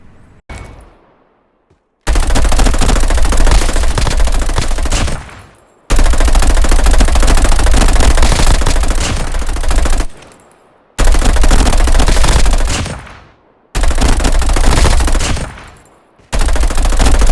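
Enemy gunfire in a shooter video game: loud, sustained automatic bursts come in five long volleys separated by short silent gaps, with no other sound between them.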